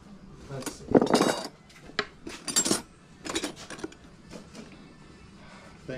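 Boxes of silverware handled at a yard sale, metal cutlery clinking and rattling in irregular bursts, fairly close, with faint background murmur.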